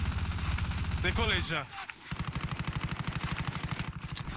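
Rapid gunfire in the video game Call of Duty Warzone, a dense run of shots, then a brief pause and a steady machine-gun-like burst, with a player's voice heard over it.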